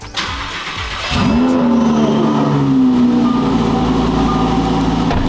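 A powerful supercar engine cranks and fires up, then settles into a loud, throaty idle with a rising rev, close by and steady.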